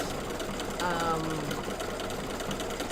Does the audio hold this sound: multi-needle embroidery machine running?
yes